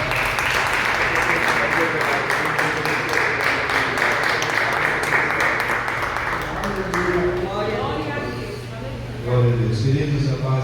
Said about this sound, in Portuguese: aplaudindo Jesus Cristo